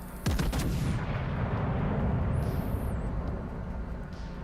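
Secondary battery guns fire in World of Warships: a quick cluster of sharp booming reports, then a heavy sustained rumble that lingers, with a faint whistling tone overhead partway through.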